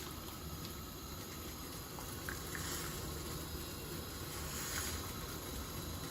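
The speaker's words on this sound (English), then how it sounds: "So now it's boiling, so I will put the lemon now." Water at a rolling boil for saffron and lemon tea, a steady dense bubbling hiss that stays even throughout with faint higher splutters, no voices.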